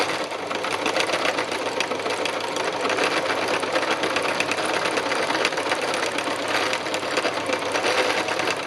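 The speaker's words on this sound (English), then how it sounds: "This is the beauty of free machine embroidery" A sewing machine doing free machine embroidery, a steady fast needle chatter running loud and unbroken throughout.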